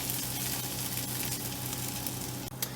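A grilled cheese sandwich sizzles in butter in a skillet: a steady, close crackling hiss that runs unbroken, with a brief dip near the end.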